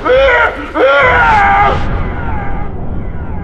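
A man lets out a loud, sustained scream with a rising, strained tone, breaking off after about a second and then trailing into fainter wavering cries and room noise.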